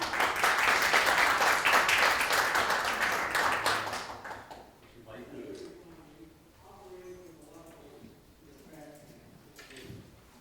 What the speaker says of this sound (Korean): 네, 여러분 힘찬 박수와 함께 시작해 볼까요?